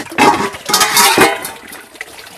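Boiled wild greens (annual fleabane) plunged and swirled in cold water, with splashing and sloshing bursts in two main surges, close and fairly loud, no talking.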